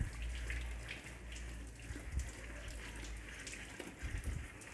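Water runs steadily during wet-sanding of a yellowed car headlight lens to remove its thick oxidized layer, a continuous close hiss and trickle with small splashy bumps and no talking.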